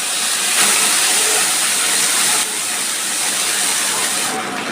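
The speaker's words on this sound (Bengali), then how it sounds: "দিচ্ছি মশলার বাটি ধুয়ে একটু জল।" Rinse water from a spice bowl hits a hot pan holding cumin, bay leaf and ground coriander, cumin and ginger paste, giving a loud, steady hiss of steam that runs throughout and eases off slightly near the end.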